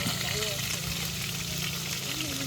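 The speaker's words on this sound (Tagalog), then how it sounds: "Ato lang ani is ato na siyang himuong gisadong chicken feet." Chicken feet with ginger sautéing in oil in a pan, a steady close sizzle and crackle with occasional stirring, accompanied by faint voices in the background.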